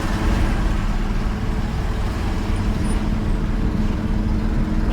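A 1971 Chevy C20 Custom 4x4 long-box pickup truck accelerates from inside the cab, a loud, steady low engine drone with road rumble, shifting from second to third gear, with no talking.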